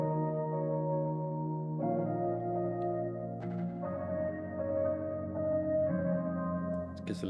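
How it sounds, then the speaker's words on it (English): Sustained organ-like chords through a rotary speaker effect swirl with a wobbling, rotating shimmer, shifting through several changes over a steady, dreamy intro with no talking. "you can hear the difference right now with and without the rotary speaker"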